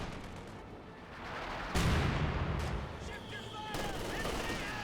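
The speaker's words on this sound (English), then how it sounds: "Grenadiers firing away." Grenadier squads trade rifle and machine-gun fire on a Company of Heroes 2 battlefield, a dense continuous barrage of cracks and rattling bursts with loud swells and distant booms, no pauses throughout.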